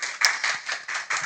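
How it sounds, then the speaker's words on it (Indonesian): A few hands clap in a short, uneven burst at a high school podcast in Jeneponto, several distinct claps close together and fairly near. "Tepuk tangan dulu."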